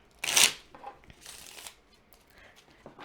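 Tarot cards being shuffled by hand, with one loud, close riffle burst near the start and a softer second burst a moment later, followed by faint rustling and handling noises and no voices.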